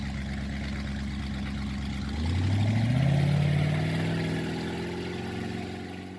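A speedboat engine drones steadily at low pitch, then surges louder and higher as it throttles up, holding a strong hum before easing back to a steady run.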